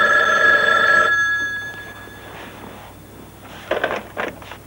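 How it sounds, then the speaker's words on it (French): A telephone bell rings with a bright, sustained tone that cuts off. Faint indistinct movement follows, and a few short clattering sounds come near the end. "le téléphone sonne à nouveau."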